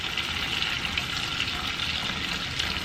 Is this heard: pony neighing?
no